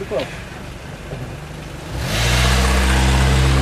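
A car pulls away after a roadside police check, its engine rising from around the two-second mark into a steady, close, loud drone, with a voice speaking briefly over the quieter opening.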